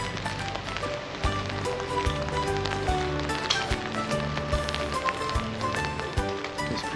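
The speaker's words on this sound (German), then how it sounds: "Es regnet doch." Rain patters steadily on an umbrella during a boat trip on Lake Garda near Limone, a dense, continuous wash of drops with a low engine-like hum beneath, fairly close and even in loudness.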